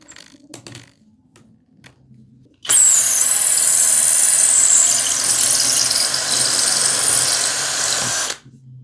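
A Hanabi LJ-2023 cordless drill with 140 N torque drills with a loud, steady, high-pitched whine for about six seconds, starting abruptly after faint handling clicks and stopping just as suddenly.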